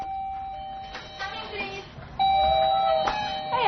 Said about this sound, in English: But nowadays, they have doorbells.